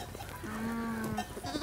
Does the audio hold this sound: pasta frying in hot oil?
no